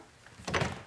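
A front door in a house being opened, a short soft creak and thud heard close, alone without talking.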